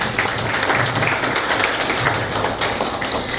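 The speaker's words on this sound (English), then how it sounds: "Please give a big round of applause." Audience at a pre-primary school exhibition applauds a senior kindergarten students' performance, a continuous, fairly loud clatter of many hands clapping without pause.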